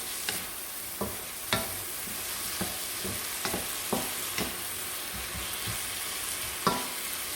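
Yuba and wood ear fungus stir-fried in a wok, a steady sizzle broken by sharp scraping clacks of the spatula at irregular intervals, close and alone without voices.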